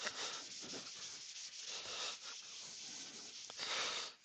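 Steady broadband rubbing as a cloth works finish into a walnut bowl spinning on a wood lathe, a continuous close hiss with slight swells and no talking.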